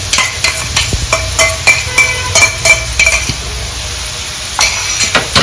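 Crushed ginger and garlic stirred in a hot pan for a Kerala fish pollichathu, with repeated close metallic clinks and scrapes of a spoon over a soft sizzle.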